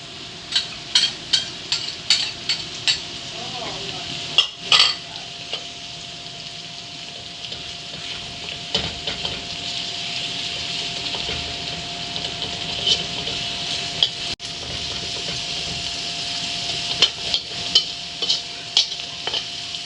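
Bagoong, a shrimp paste, is sautéed in a pan for a laing dish, sizzling steadily throughout while a utensil repeatedly scrapes and stirs with clustered clicks and knocks.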